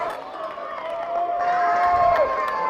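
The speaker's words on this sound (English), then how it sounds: "Both the Gator fans and the Picker fans cheering their teams on loud." Home and visiting fans at a high school football playoff game at Grulla High School, Gators against Cotton Pickers, roar steadily from the stands, a sustained crowd din that swells slightly midway, with a thin whistle-like tone running through it.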